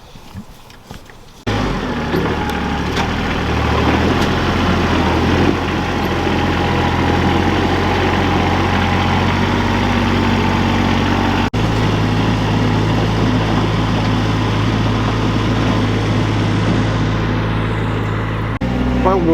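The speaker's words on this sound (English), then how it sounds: "Probably won't be able to hear me because of the tractor" Tractor engine idles and runs steadily on a homestead pasture, a loud continuous low rumble close by. It starts abruptly after a quieter opening and drones on without a break.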